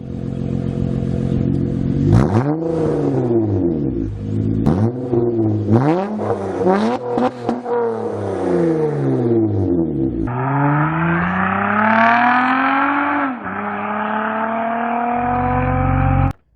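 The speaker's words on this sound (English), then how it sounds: "one of the best damn sounding V6s in the market" A 2006 Acura TL V6, stanced, revs repeatedly, each rise and fall sweeping up and down in pitch. A final long, loud pull climbs steadily and then holds high before it cuts off, with no one speaking.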